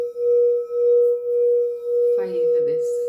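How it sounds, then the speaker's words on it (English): A crystal singing bowl rings with a pure, steady sustained tone close by, its volume gently pulsing, while a voice briefly speaks over it near the end. "Let me know if you've got a singing bowl as well, whether you've got a crystal one"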